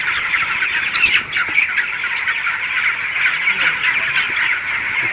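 Crowded broiler chickens in a poultry farm shed housing ten thousand birds, a dense continuous chorus of squawks and clucks close by, steady throughout with a voice faintly mixed in.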